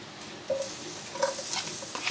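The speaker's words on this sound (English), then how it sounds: "you cook the shallots and the garlic till they're just starting to change colour a little bit" Red shallots and garlic frying on low heat in a pan for a Balinese coconut curry, a soft crackling sizzle with a few brief scrapes and clinks of stirring.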